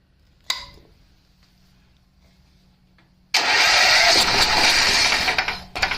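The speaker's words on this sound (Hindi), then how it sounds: "इंजन स्टार्ट होता है, स्टार्ट होने के बाद इंजन बंद हो जाता है।" A gas-powered generator engine, struggling with low gas pressure, fires once with a sharp start attempt, then after a pause catches and roars loudly for a couple of seconds before cutting out abruptly.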